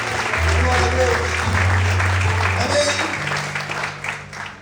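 A church congregation applauding during a worship service, sustained loud clapping that swells and fades while a preacher talks over it.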